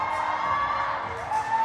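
A crowd cheers and whoops continuously at a cheerleading championship in a large arena, loud and sustained with overlapping shouts.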